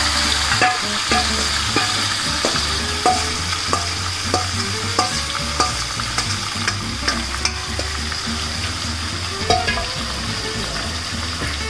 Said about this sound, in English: So we'll put the marinated chicken here into the kadai.